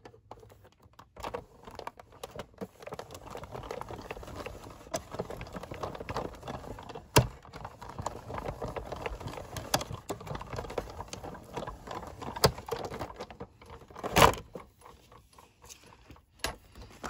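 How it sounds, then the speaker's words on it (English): An acetate Christmas tree page is fed through a die cutting machine, making faint, uneven clicking and clattering with a few sharper knocks, including a louder clack late on. "So I'm going to die cut this through my die cutting machine now."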